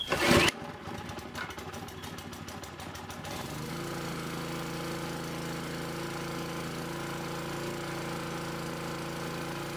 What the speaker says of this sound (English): It's the pump hitting hard.